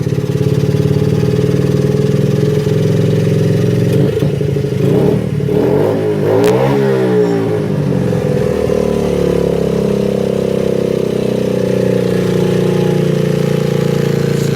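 A kickstarted mini bike engine runs steadily, loud and close, with a mechanical clatter, then revs up and down briefly in the middle before settling back to an even idle.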